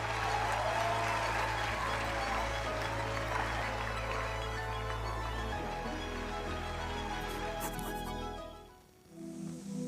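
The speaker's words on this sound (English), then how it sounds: "Please give yourself a round of applause." A crowd applauds in a dense, continuous wash over a low steady hum and faint tonal sounds, then the clapping drops away abruptly in the last second.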